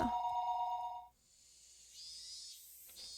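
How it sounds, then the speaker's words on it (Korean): An electronic telephone in the visual novel game Higurashi (When They Cry) gives a short ring of about a second. A soft steady hiss follows, and nobody speaks. "내가 고함을 치는 사이에 전화가 울렸다."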